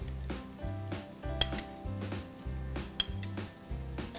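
Broccoli being mixed with chili sauce and soy sauce in a pan for honey chilli broccoli, giving close, repeated clinks and scrapes of a utensil against cookware over a steady low hum, with two sharper knocks standing out.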